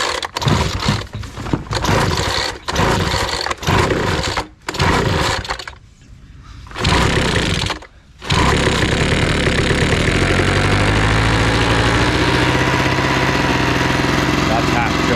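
A small gasoline engine on homestead equipment, its carburetor flooded, is started and run: loud, rough stuttering bursts with brief drop-outs, then settling into a steady, close, droning run, with talk over parts of it.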